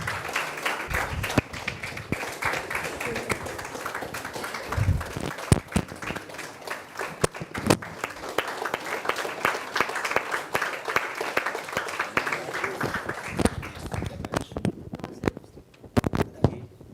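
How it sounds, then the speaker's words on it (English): An audience at a state-level competition grand finale claps for a winner: a sustained patter of many hands with sharper individual claps, thinning toward the end. "A great round of applause to Miss Amrita."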